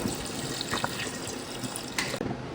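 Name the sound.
water being poured into a pressure cooker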